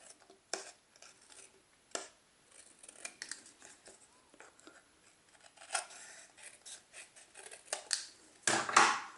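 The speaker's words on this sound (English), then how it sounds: "I'm going to go ahead and just trim these off with my snips" Craft snips trim paper close by, a quiet series of crisp snipping cuts at irregular intervals with light paper rustling, ending in a louder burst of handling, no talk.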